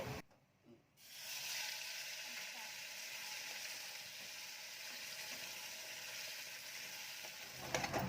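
A steady, loud sizzle of blended onion and tomato paste frying in a hot pan starts after a brief quiet moment and continues evenly, with occasional scraping.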